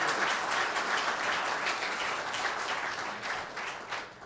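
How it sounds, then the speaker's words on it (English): Steady audience applause for festival volunteers at a film festival, sustained and fairly even from start to finish, moderately distant with no talk over it. "Please join me in giving them all a round of applause."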